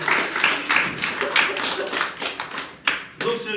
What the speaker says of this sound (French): On peut l'applaudir à Léna Micha.